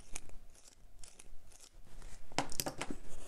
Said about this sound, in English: when I compare it to the fake Lamy, here's the fake sound